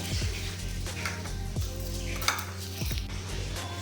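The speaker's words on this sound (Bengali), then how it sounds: "ডালগুলো নিয়ে নিলাম, এটাকে একটু কাঠকলায় ভেজে নেব" Masoor and moong dal lentils being dry-roasted in a pan on a home stove, with a utensil scraping and clinking against the metal in a few distinct strokes over a steady background hiss.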